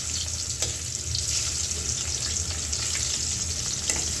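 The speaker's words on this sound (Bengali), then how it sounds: "তো মাছগুলো হালকা ভাজা নেই" Hilsa fish lightly frying in a pan, giving a steady, even sizzle with occasional soft pops, close and constant.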